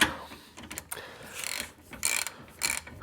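A ratchet wrench turning out a 17 mm bracket bolt at the wheel hub of a Honda Odyssey during a wheel bearing job, close rapid clicking in several short bursts with brief pauses between strokes, no talking.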